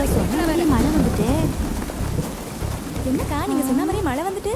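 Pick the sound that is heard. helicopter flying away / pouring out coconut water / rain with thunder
rain with thunder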